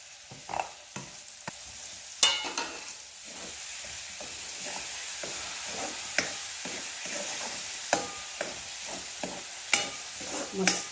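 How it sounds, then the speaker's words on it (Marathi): Ground masala paste for a Konkan-style Malvani tender cashew dish sizzles in a pan while a spoon stirs and scrapes at an uneven rhythm, sharp clacks standing out above a constant frying hiss. "आता हे दोन मिनिट आपण वाटण परतून घेऊया"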